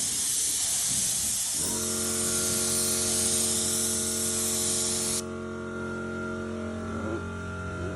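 Spray gun applying an insulating layer onto a helmet, a loud steady hiss of spraying that runs for several seconds and then cuts off, leaving a lower background hum with a sustained tonal drone underneath.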